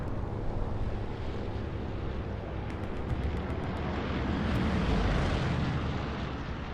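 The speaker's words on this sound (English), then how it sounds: "we're hearing those planes coming over now" Aircraft passing overhead in the World War II shooter Hell Let Loose: a continuous, loud, rumbling engine drone that swells slightly in the middle, with no speech.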